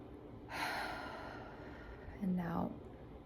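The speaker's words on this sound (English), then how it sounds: "Take a deep breath in with me." One slow, deep inhaling breath, quiet and close, followed by a short soft vocal sound.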